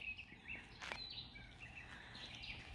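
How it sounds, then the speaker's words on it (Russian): Birds chirp and sing faintly outdoors near the sea at Giruliai, Klaipėda, Lithuania, with scattered calls over a quiet background and no talk. "послушать пение птиц"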